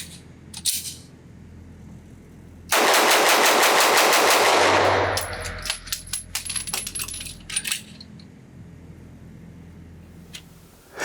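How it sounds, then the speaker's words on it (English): HK P30SK pistol fired at a range in a fast burst of sharp shots, followed by scattered clicks and rattles of magazine handling, with a couple of isolated single reports. "let's go to the range, see how fast I can shoot this gun"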